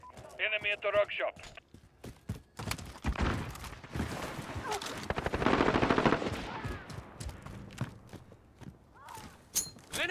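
Rapid gunfire bursts and shots in a video game, cracking in clusters amid footsteps and clatter, with someone talking over parts of it.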